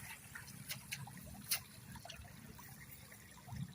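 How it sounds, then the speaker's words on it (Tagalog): Strong floodwater rushing through a rice paddy field after heavy overnight rain, a steady low churning flow with faint trickles and occasional splashes. "Lakas ng tubig eh."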